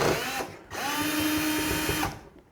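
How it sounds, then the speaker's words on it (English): A calibrated power drill spins up twice while tightening bolts on a Multiflex tailgate, the second run whirring steadily for over a second before the clutch kicks out; close and fairly loud, with no talking. "So if I go to tighten right now, you can hear it kicks out"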